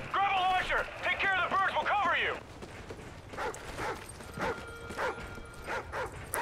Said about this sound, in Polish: Co, piesku, szczekasz?